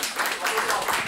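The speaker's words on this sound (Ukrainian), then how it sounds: "Поаплодуйте, якщо ви бачили." Short burst of audience clapping at a Ukrainian stand-up comedy show, a quick scattered patter of hands at moderate volume, lasting about a second.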